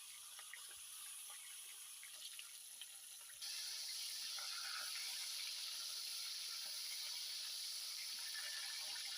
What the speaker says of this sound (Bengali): এবার ভালো করে মাছ ভেজে নিব।